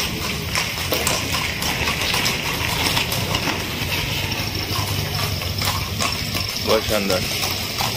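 A white Phulkari Nukra horse trained in Marwari dancing moves in place with quick, repeated hoof clip-clops over a busy outdoor background, heard under someone talking throughout.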